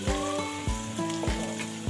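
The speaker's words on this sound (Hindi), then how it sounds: "तो मैंने इसको अब 4 से 5 मिनट तक प्याज को फ्राई कर लेना है।" Onions fry in a pan for a bhindi dish with besan, a moderate sizzle punctuated by four regular clanking strikes of a spoon against the pan, no talking.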